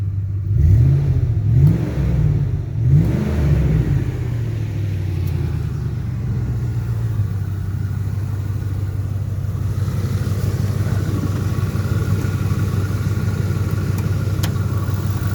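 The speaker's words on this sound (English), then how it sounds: "Motor runs real strong." A 2006 Ford F-150 4x4 pickup truck engine with 142,000 miles revs a few times with rising and falling surges, then settles into a steady, loud rumbling idle close by.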